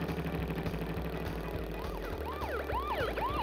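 Video game police car sirens in Crash Bandicoot 3: Warped wail in rising and falling sweeps, several overlapping toward the end, above a steady game soundtrack with a pulsing beat.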